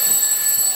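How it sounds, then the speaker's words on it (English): An alarm clock ringing during a courtroom-style stage play, a loud, continuous high-pitched ring that holds steady throughout with no voices over it. "it sounded more like an alarm clock"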